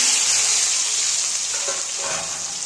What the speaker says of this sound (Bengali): তেলটা গরম হয়ে গেছে, আমি পেঁয়াজ আর কাঁচা লঙ্কাটা ভেজে নেব।